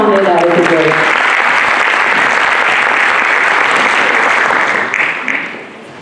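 A university lecture audience at Batman University applauds as speakers are welcomed onto the stage, with loud, dense, continuous clapping filling the hall. A voice is briefly heard at the start, and the applause fades slightly near the end.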